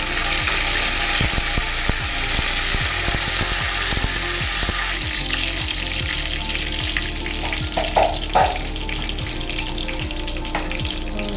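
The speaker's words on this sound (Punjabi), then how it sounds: "ਆਪਾਂ ਕੜਾਈ ਗਰਮ ਹੋ ਗਈ ਆ ਵਿੱਚ ਤੇਲ ਦਿੱਤਾ ਪਾ ਹੁਣ ਆਪਾਂ ਇਹਦੇ ਵਿੱਚ ਜੀਰਾ ਪਾ ਦਾਂਗੇ ਨਾਲ ਹੀ ਕੜੀ ਪੱਤੇ ਪਾੜਾਂਗੇ" Cumin seeds and curry leaves crackle and sizzle in hot oil in a wok, a loud continuous fry with rapid popping spatters throughout, no talking.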